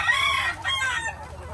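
Chickens on a Battlecross breeding farm, with a rooster crowing close by and hens clucking around it, a short burst of crowing and clucks over a low background hum.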